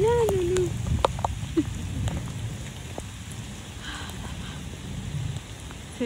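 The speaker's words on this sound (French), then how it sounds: "C'est vraiment une pluie torrentielle" Torrential rain pours down in a steady, dense hiss, close and continuous, while a bird call and faint clicks briefly break through at the start.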